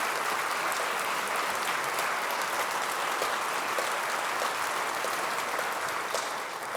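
Sustained audience applause fills a government affairs forum hall, a dense, even wash of clapping from many hands that holds steady for several seconds before easing off slightly at the end.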